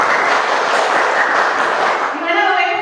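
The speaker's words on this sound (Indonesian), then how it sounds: "marilah kita tepuk tangan bersama-sama" A group of participants claps hands together to liven up a morning teachers' dissemination session, producing a dense, continuous burst of applause that holds steady before easing off near the end.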